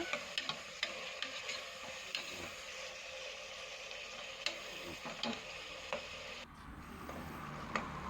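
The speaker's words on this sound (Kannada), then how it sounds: "ಫಸ್ಟು ಫ್ರೈ ಆಗ್ತಾ ಇದೆ ನೋಡಿ ಟೊಮೆಟೊ." Tomatoes frying in a pan, a steady soft sizzle with regular ticking clicks and stirring scrapes, close, fading slightly near the end.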